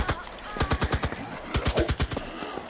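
Rapid bursts of automatic gunfire in the zombie-invasion mode of the video game Cuisine Royale (CRSED F.O.A.D.), two close, loud volleys of evenly spaced shots with a brief pause between them.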